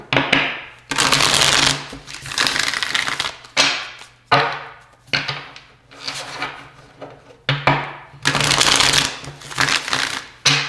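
Tarot cards being shuffled and drawn, in repeated bursts of dense riffling and rubbing, close and loud, with brief pauses between handfuls.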